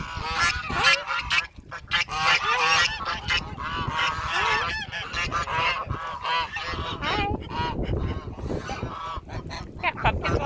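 Farm geese feeding on axe-split pumpkins honk loudly and repeatedly, overlapping nasal calls from several birds close by, with a few quacking notes mixed in.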